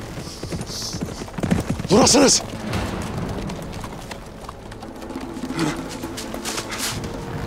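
Horses galloping into a battle scene, a rapid clip-clop of hooves under shouting voices, with a loud burst of yelling and a general rumble of commotion around them.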